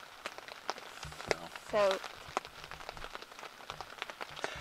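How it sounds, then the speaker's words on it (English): Heavy rain pours down steadily during a Pennsylvania deer rifle season hunt, dense broadband patter close around the hunter, with a brief voice and small movement sounds over the downpour. "It's pouring down rain."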